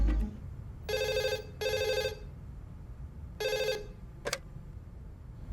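A telephone bell rings in four bursts, loud and close, with short gaps between them. No one speaks over it.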